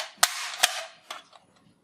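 Colorful plastic toy gun firing soft bullets: two sharp loud snaps close together, then a third weaker pop and small trailing clatters, alone without speech.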